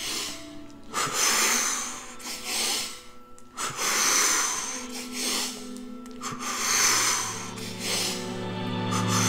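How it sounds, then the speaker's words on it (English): Deep double breaths during a qigong-style yoga exercise come in strong, rhythmic, airy inhale and exhale cycles. They are close and fairly loud, with no talking. "Big breath, double breath."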